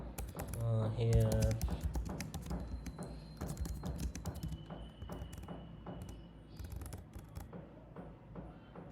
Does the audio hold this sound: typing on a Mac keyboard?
yes